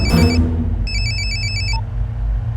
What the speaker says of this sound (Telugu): వీడి సెల్ ఫోన్లో సూర్య నెంబర్ ఉంటుంది, కలిపి.